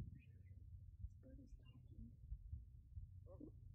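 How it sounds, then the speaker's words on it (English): A bird produces quiet, speech-like chirps and warbling phrases in short bursts over a steady low hum, sounding almost like a distant radio voice. "Look at this bird talking."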